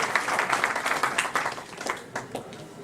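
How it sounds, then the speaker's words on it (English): An audience at an institute session claps for a young chartered accountant. The scattered, uneven claps are fairly faint and brief, with distinct individual hand strikes standing out. "Please give a big round of applause to this young chartered accountant."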